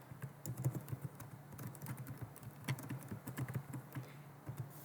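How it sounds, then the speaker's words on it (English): Keys on a computer keyboard are typed in quick, uneven bursts of soft close-up clicks, steady over a few seconds with no talking. "So I'm going to type that in."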